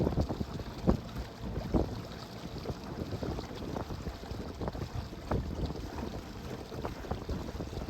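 Wind sweeps across Curlew Lake around a fishing boat: a steady, rough roar and buffeting rumble on the microphone with small irregular gusts, with no talking.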